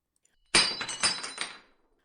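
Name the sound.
small hammer smashing ice cubes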